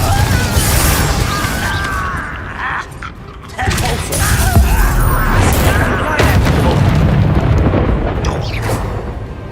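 The Confringo fire-blast spell from Hogwarts Legacy lets out sustained, rumbling booms and crackling bursts amid dense in-game combat noise, loud and continuous for several seconds, with brief dips between blasts.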